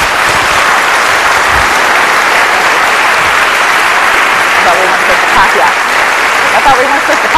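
An audience applauds after a talk at a lecture event, a steady, dense wash of clapping that stays loud and even for the whole stretch with no voices breaking through.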